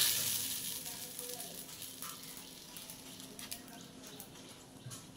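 Oat breakfast patties frying in a pan, a steady close sizzle with faint crackles and pops that continues evenly throughout.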